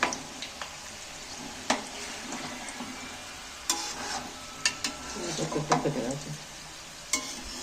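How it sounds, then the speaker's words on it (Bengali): Singaras frying slowly in oil over a low flame, a gentle continuous bubbling sizzle punctuated by sharp scraping clicks as pieces are turned and moved around the pan. "এটাকে গ্যাসের ফ্লেম কমিয়ে দিয়ে আস্তে আস্তে এটাকে ভাজতে হবে"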